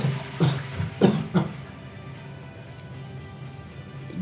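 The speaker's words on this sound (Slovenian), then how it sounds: "sam trenutek, da se malo odkašljam" A man clears his throat with a few short, rough hacks close to the listener, followed by a quiet stretch of low background hiss.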